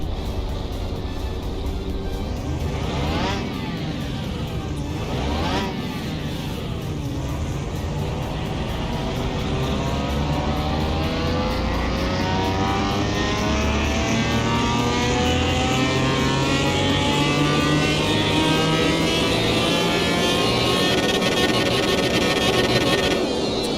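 Car engine in Car Mechanic Simulator 2021 revving hard on a dyno, a loud continuous tuned-up roar that climbs steadily in pitch after two quick early throttle blips, with no talking.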